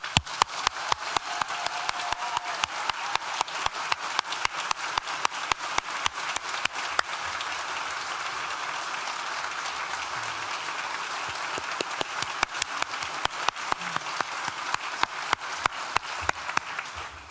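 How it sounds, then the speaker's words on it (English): A large graduation ceremony audience claps for the graduates, a long, even stream of hand claps with a few sharp nearby claps standing out, steady and sustained without speech. "Maybe we could all have a round of applause for our graduates up here."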